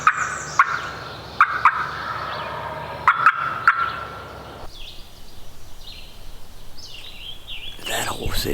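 A wild turkey gobbles several times in big woods, sharp rattling calls that rise clearly above the background, followed by quieter rustling and a few other short sounds.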